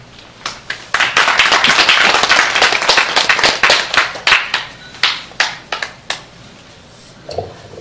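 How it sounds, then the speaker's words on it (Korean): Applause at the founding assembly of a citizens' network for history education: a burst of clapping swells, then thins into scattered individual claps that trail off with brief gaps. "박수."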